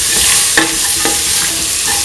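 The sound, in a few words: stirring ingredients in potato ivy gourd coconut milk stew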